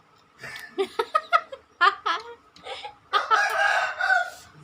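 Domestic chickens at a Thai home where free-range chicken is cooked, clucking in several short bursts followed by a longer, louder crowing call from a rooster nearby; faint laughter and chatter may sit in the background.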